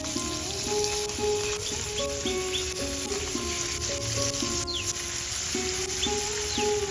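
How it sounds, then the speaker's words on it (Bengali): Small puti fish fry in hot oil in a pan with a steady, dense sizzle that continues throughout, while a melodic tune plays softly underneath. "তেলটা গরম হয়ে এলে মাছগুলো এক এক করে দিয়ে ভেজে নেব।"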